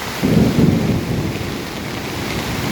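A steady roar of typhoon wind and rain, with a deep rumbling surge early on that settles into continuous broadband noise.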